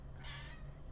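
A pet cat gives a single drawn-out meow lasting about half a second, close and fairly loud over a low steady hum, with no talking.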